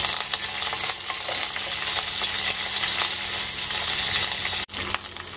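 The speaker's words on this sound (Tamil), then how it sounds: "கருவேப்பிலை ஆட் பண்ணிக்கலாம்." Curry leaves dropped into hot oil for aviyal, a loud, steady close-up sizzle and crackle that carries on throughout with one brief break near the end.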